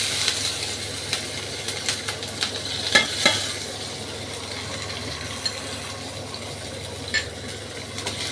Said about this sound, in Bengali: এটা চরবর যখন করছে এই মশলাটা দিয়ে দিলাম, পেঁয়াজ, রসুন, আদা